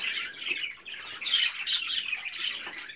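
Budgerigars squawking at a new arrival unboxing, harsh continuous chattering calls from several birds, close and loud with no talk.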